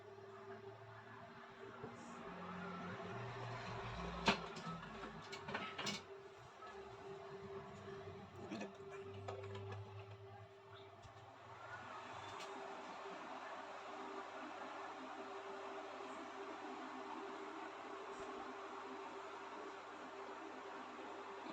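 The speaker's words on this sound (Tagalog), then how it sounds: "Saksak natin yung electric fan." An electric fan powered from a UPS converted to pure sine wave output runs with a faint, steady whirring hiss. The hiss settles into a constant drone partway through, and there are a few small clicks before it.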